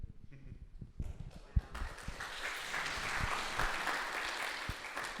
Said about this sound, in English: You can give another round of applause for these amazing rabbis